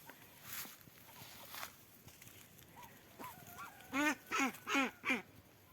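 Several ducks squabbling over a tangerine, a few soft scattered calls at first, then four loud, close, evenly spaced quacks in quick succession toward the end, with faint shuffling underneath.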